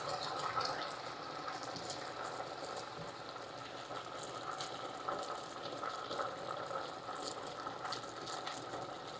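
Syrup poured into a container to rinse out leftover lemon zest, a steady close liquid pouring and swishing with fine bubbly crackle, continuous and moderately quiet throughout.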